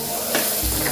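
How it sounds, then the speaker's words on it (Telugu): Okra pieces stir-frying in curry in a pan give a brief, steady hiss and sizzle with a faint scrape of stirring, close and loud, with no talking. "ఇప్పుడు ఈ కర్రీ వేసిన బెండకాయ ముక్కలు వేసి"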